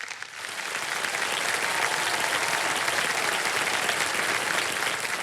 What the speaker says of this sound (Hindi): बहुत बहुत स्वागत आपका तालियों के साथ इनका। जोरदार तालियां।